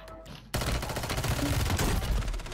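Gunfire in a video game, a sudden dense volley of rapid shots after a short quiet moment, sustained loud and close to the end.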